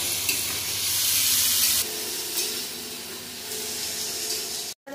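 Cashews, garlic, ginger, green chilli and garam masala frying in a pan, a steady close sizzle with stirring scrapes, louder for the first two seconds and then continuing more evenly before a brief cut near the end.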